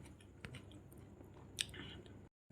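Soaked rice (panta bhat) with pickle is eaten at night, with soft close-up chewing and squishy mouth sounds, one crisper bite partway through, in a quiet room.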